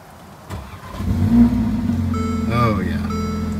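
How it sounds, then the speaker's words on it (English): A Mercedes-Benz GLA 45 AMG four-cylinder engine cranks and fires, flaring up to a loud rev before settling into a steady, throaty idle close by. "let's step into the GLA 45 and let's start by turning it on"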